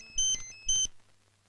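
A phone rings with two short electronic ringtone bursts, bright and close, with a brief pause between them and no talk.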